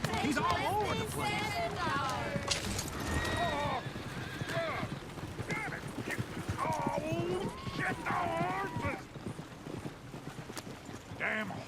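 Horse hooves clip-clop steadily in Red Dead Redemption 2 game audio, close and busy, with horse whinnies, jingling harness and a murmur of game voices mixed in throughout.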